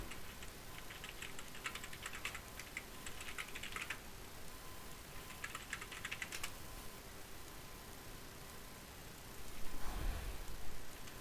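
Typing on a computer keyboard at home, a quick patter of light key clicks in short bursts with pauses between, nearby and fairly quiet, ending in a heavier thump.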